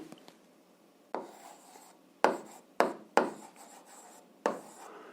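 A pen or chalk scratches out a math solution in five short, distinct strokes, each a crisp rubbing scrape close to the mic, with quiet gaps between and no speech.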